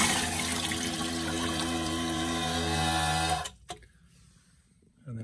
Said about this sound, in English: when you press the flapper to show you how it just drops directly into the black tank